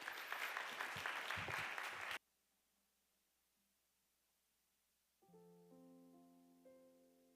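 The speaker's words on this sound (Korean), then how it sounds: "나오실 때 뜨거운 박수로 함께 환영해 주시면 감사하겠습니다" Warm applause from a church young-adults worship congregation greets a speaker coming to the stage, a dense burst of clapping that cuts off abruptly after about two seconds, followed by quiet and then sustained tones.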